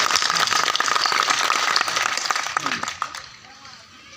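An audience claps at a political speech, a dense patter of applause from many hands that fades out near the end, with a voice speaking over it.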